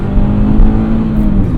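A Mazda Miata engine roars loudly and steadily as the car accelerates hard, a close, sustained sound with no talking over it.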